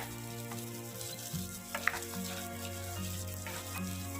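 Boiled chickpeas are tipped into a pan of frying fiddlehead fern greens, an Assamese dish, producing a soft steady sizzle with a few clinks of stirring under a faint constant hum.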